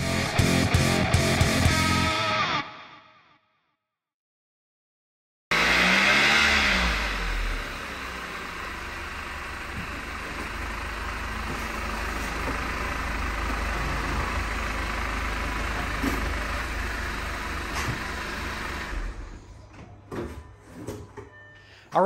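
A 2007 Audi A4 with a rebuilt engine and oil pump trouble runs steadily at close range, a broad continuous engine drone after a brief loud burst and a few seconds of silence, fading near the end.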